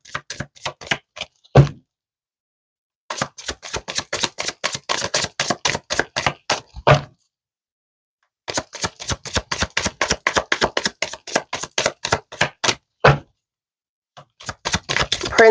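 Cards are shuffled and laid down in quick, crisp bursts of rapid flicking snaps separated by short silences, close and fairly loud, with no talking.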